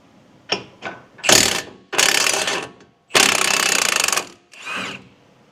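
Ratchet wrench loosening the tight, Loctite-coated caliper bracket bolts on a Ford Ranger during a brake job, with several loud bursts of rapid ratcheting clicks, one long sustained run among shorter ones, close to the microphone and without talk.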